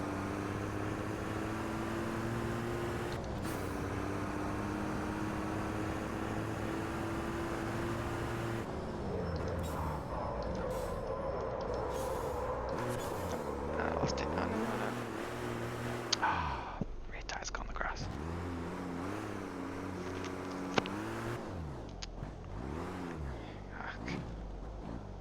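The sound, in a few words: COPA truck engine on a fast lap, from video game Automobilista 2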